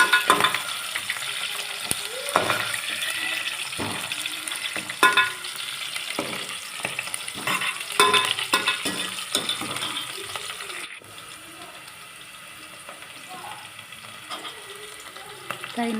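Onions fry in a pan for a homemade tomato curry, a steady close sizzle with frequent metallic clinks and scrapes of stirring, the frying continuing more softly toward the end.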